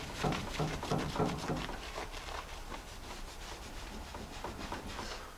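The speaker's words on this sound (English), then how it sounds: "I'm going to take a clean spot on my rag and just wipe off all the extra compound on here." A rag rubs over old chrome on a Jeep J10 to wipe off excess polishing compound, giving quiet, close, rhythmic swishing strokes in a steady back-and-forth pattern.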